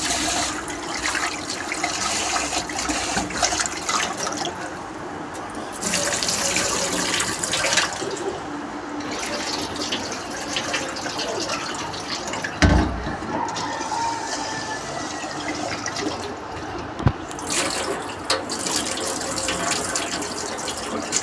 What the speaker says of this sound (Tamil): இதையும் நம்ம வந்து தண்ணி ஊற்றி நல்லா வாஷ் பண்ணிக்கலாம்